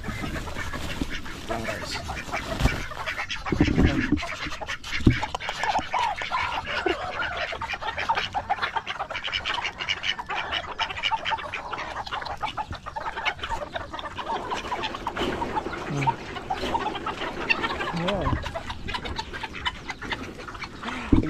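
Ducks, geese and Chinese chickens on a farm keep up a dense, continuous racket of quacking, honking and clucking for about twenty seconds, close and loud, with a brief spoken remark near the start.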